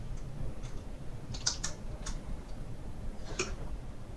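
Someone types SQL code on a computer keyboard, producing a sparse run of crisp, close key clicks at uneven intervals over a low background hum.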